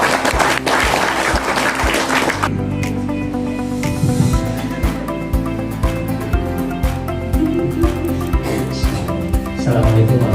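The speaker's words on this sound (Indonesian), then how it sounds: "Tepuk tangan buat Pak Didi." Audience applause for a speaker at a corporate motivational seminar, a loud burst of clapping in the first seconds that settles into steady sustained clapping mixed with music-like tones throughout.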